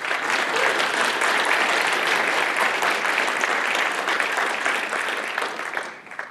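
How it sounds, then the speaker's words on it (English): A conference audience applauds steadily as a speaker is welcomed to the stage for a Python talk, loud sustained clapping with no talk that tapers slightly at the close. "give him a big round of applause"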